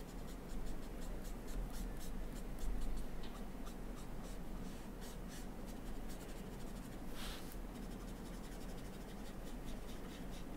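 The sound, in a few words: Copic alcohol marker colouring on absorbent paper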